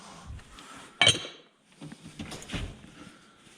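Metal lid set onto a pot of ale-braised short ribs: a bright clink of metal on metal around one second in, followed by softer knocks and handling sounds nearby.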